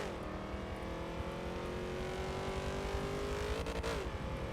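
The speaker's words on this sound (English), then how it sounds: "So that could be what you hear when they rev really high for a longer period of time." Heavily tuned race cars with high gear ratios at Sebring International Raceway in a Forza racing series, a sustained high-pitched engine whine climbing steadily in pitch, then dipping as it shifts, faint and continuous.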